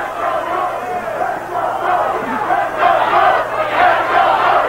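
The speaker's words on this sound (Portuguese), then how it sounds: "Uma parte da torcida se manifesta com o Holly dando uma força para Evander Holyfield" Boxing arena crowd at the Evander Holyfield vs Riddick Bowe rematch, a dense sustained roar of cheering and chanting that swells toward the end, with a commentator's voice faintly underneath.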